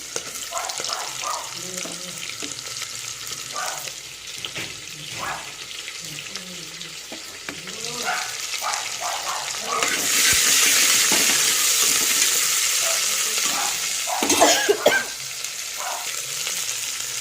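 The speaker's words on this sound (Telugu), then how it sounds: "ఆనియన్, పచ్చిమిర్చి వేగుతున్నాయి." Onion and green chillies frying in a pan for vegetable fried rice give a steady, moderately loud sizzle that grows brighter and hissier partway through, with soft scraping clinks and faint talk in the background.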